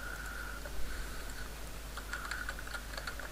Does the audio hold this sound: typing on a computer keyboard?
yes